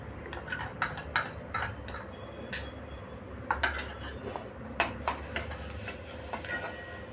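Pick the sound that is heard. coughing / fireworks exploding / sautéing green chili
sautéing green chili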